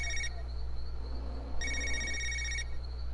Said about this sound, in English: I can answer the phone or I don't have to answer.